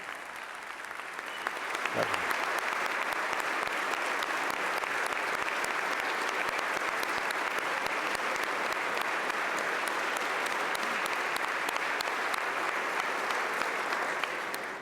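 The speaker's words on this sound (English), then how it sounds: "everybody seems to clap for the First Lady." A large audience claps for the First Lady during the Pennsylvania governor's 2025 budget address in a legislative chamber, producing a sustained, dense wash of applause that holds evenly for over ten seconds.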